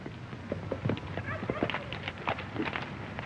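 Faint clip-clop of horses' hooves in an old Western film scene, a few soft irregular hoof taps over a dull background hiss.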